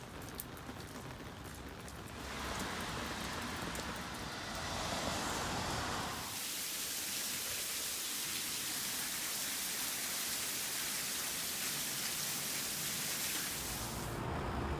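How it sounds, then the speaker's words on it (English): A heavy rain downpour drums on a truck camper built on a 1998 Toyota Tacoma 4x4, starting as dense patter and swelling into a loud, steady roar of water hammering the roof. "it's freaking downpouring here"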